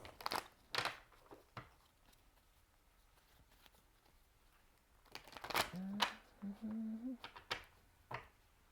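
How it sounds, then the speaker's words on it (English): Tarot cards shuffled by hand in short bursts of riffling and flicking, close up, with quiet gaps between and a voice humming a tune partway through. "I'm going to shuffle a little bit more."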